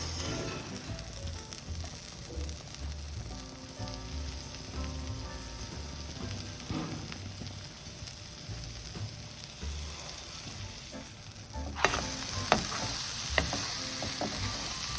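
An egg tortilla wrap with cheese fries in a pan, a steady close sizzle throughout, joined near the end by a few sharper clacks and scrapes from a utensil.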